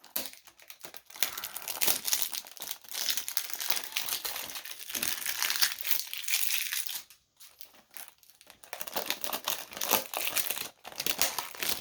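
Close, continuous crinkling and crackling of plastic packaging on a steering wheel cover being torn and pulled apart by hand with fingernails, with a brief pause midway before the rustling resumes.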